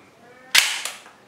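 A toy mini pistol fires with one sharp, loud snap and a short ringing tail, then a second, fainter crack a moment later. Nothing else is heard around the shots.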